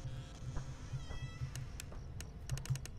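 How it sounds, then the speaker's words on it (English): A cat meows inside the horror video game Five Nights at Freddy's 4, giving several short, faint meows spread across the moment over a quiet background with light tapping. "I hear a cat. Is that a cat?"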